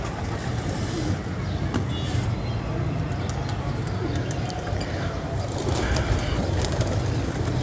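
Pigeons caught with a net coo softly amid a steady, loud background rumble of traffic or engine noise, with a few faint clicks and rustles throughout.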